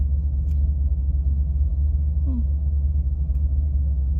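A BMW M3 engine idles with a steady low rumble close by, a continuous deep drone with little change in pitch.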